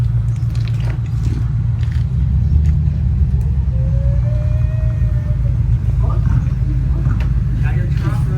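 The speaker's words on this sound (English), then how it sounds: "Got your truck running." A pickup truck engine, newly repaired after transmission-line work, rumbles loudly and steadily at close range, a low continuous drone with faint whines on top.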